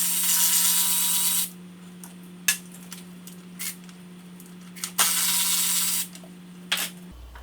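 A quarter-inch ratchet with a 10 mm socket removes bolts on a BMW M57 diesel engine in a 335d during glow plug replacement, with two quick ratcheting bursts and scattered clicks and taps over a steady low hum.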